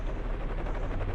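A helicopter arrives in the Resident Evil Survivor video game, a dense continuous rotor rumble with fast rhythmic chopping, loud and steady throughout.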